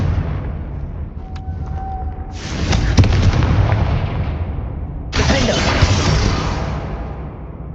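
Two loud, booming Confringo fire-spell explosions in Hogwarts Legacy, one after another a few seconds apart. Each bursts suddenly and rolls off in a crackling, rumbling tail.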